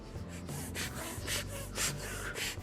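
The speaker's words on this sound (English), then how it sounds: "he can sniff real good" A toddler sniffing repeatedly up close, a rhythmic series of breathy snorting inhales at roughly half-second intervals, loud and alone.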